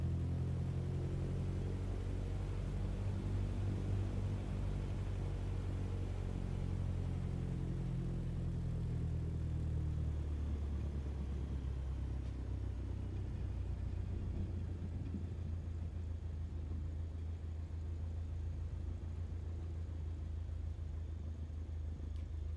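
A Cessna 152 piston engine in Microsoft Flight Simulator idles while taxiing, a steady close low drone with harmonic hum that eases slightly as it rolls on, with no talk.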